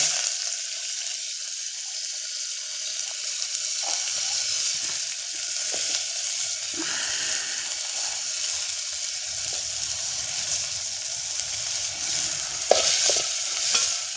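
Chopped onion sizzles and fries steadily in a hot pan, with a spoon stirring through it now and then, giving occasional scraping knocks over the constant crackle; close and fairly loud, with no talking.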